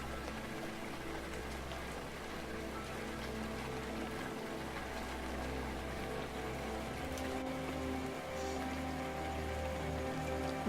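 Rain falling in the video game Rainswept, a steady wash of rain on surfaces with a low droning hum beneath, continuous and even with no voices.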